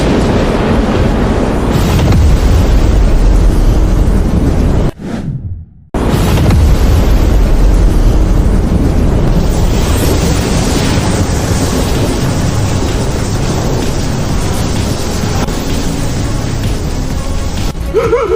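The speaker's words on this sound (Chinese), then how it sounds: "系统，给他来个5雷轰顶试用招。" Animated five-thunder lightning strike attack: a loud, sustained roaring rumble of thunder and crackling blast that fills the clip, cutting out for about a second before surging back, with no voices.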